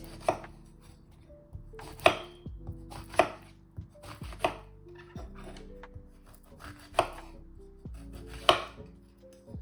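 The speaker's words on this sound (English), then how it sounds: "These are easy to cook, so I could chop them big." Vegetables for a tofu and white rice stir fry being chopped into big pieces with a knife on a cutting board, a series of sharp, irregular close thuds with soft rubbing between strikes.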